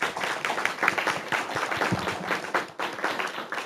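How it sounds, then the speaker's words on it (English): An audience at a school board meeting gives a round of applause, dense rapid hand clapping from a room of people that holds steady for a few seconds before thinning out. "Let's give them a round of applause."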